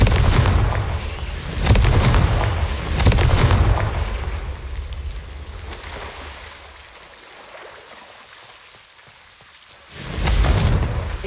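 Confringo explosive spell blasts in Hogwarts Legacy, several loud booming bursts with rumbling tails, a quieter lull, then another heavy blast at the end.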